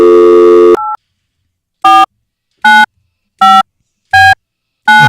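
A telephone call: a steady dial tone cuts off briefly, then a busy signal pulses in five loud, evenly spaced beeps.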